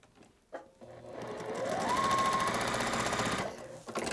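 A sewing machine stitches quilt block pieces together in a single continuous run, its motor whirring up to a steady close hum for a couple of seconds before stopping, with light handling clicks at either end.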